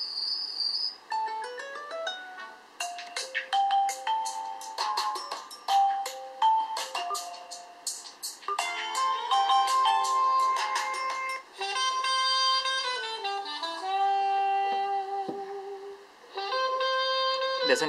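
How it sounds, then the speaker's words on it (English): A ringtone plays loudly through the speaker of a Huawei Honor 6 phone, a bright chirpy electronic melody of quick repeated tones and sustained notes running for many seconds without talk. "Let me try and play you a quick, probably a ringtone or something,"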